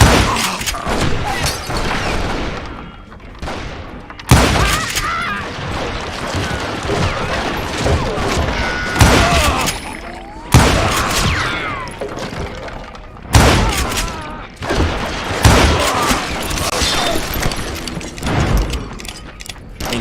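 Loud bursts of gunfire erupt in Call of Juarez: Gunslinger, a Western video game shootout, coming in several heavy volleys with sharp cracks, booms and clattering debris separated by brief lulls.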